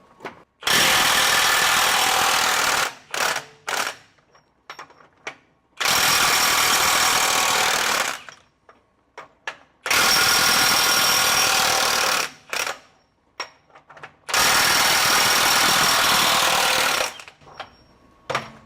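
A RIDGID 18V 3/4-inch high-torque impact wrench works large fasteners in four long, loud bursts of rapid hammering, each separated by quiet gaps with short trigger blips.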